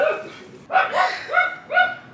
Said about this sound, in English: These dogs are driving me nuts.